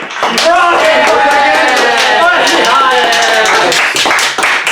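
A small group of people clapping together in a room, steady hand claps running throughout at close range, with voices mixed in underneath.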